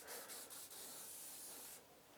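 A rag soaked with alcohol spray rubbed against a bicycle wheel rim to clean it for a tubeless setup, heard as steady, close hissing friction with a few quick strokes near the start, then softening near the end.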